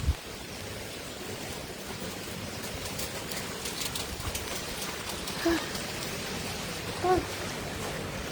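Steady rain pours down with a dense, even hiss, broken only by a couple of faint, brief knocks.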